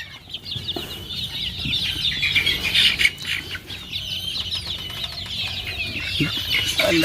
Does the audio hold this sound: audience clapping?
no